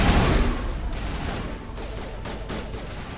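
Sustained suppressing gunfire rattles through a Mass Effect Legendary Edition firefight, starting with a loud burst and continuing as a steady, dense stream of shots for a few seconds.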